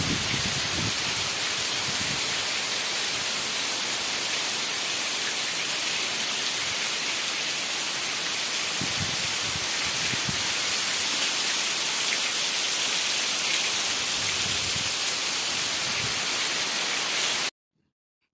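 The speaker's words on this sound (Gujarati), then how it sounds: "જોરદાર વરસાદ ચાલુ થઈ ગયો" Heavy rain falls over farm fields in a dense, unbroken roar that holds steady and loud before cutting off abruptly near the end.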